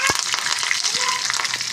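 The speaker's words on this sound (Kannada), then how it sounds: "ಒಣಮೆಣಸಿನ್ಕಾಯಿ 2, ಸಾಸಿವೆ ಒಗ್ಗರಣೆ ಮಾಡ್ಕೊಳ್ಳಿ." Curry leaves, two dried red chillies and mustard seeds temper in hot oil in a kadai on a gas stove, a sharp close sizzle with rapid popping crackles and a quick spatter at the start.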